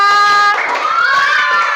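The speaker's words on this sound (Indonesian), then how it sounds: "Tepuk tangan buat kelompok 3." Students in a classroom clap for group 3 after a presentation, a short burst of hand clapping following a sustained tone, close and fairly loud.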